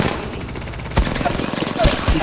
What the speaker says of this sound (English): He's shooting me through the wall, bro.